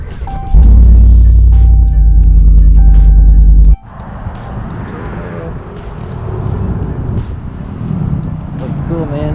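A 2020 Alfa Romeo Stelvio makes a loud, deep engine rumble at first, then settles into a quieter cabin drone of road and engine noise with occasional clicks and knocks while driving.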